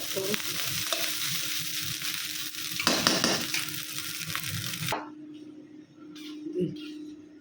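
Rice frying and being stirred in a pan, a dense steady sizzle with scraping stir sounds that cuts off abruptly partway, leaving quieter background with faint clinks.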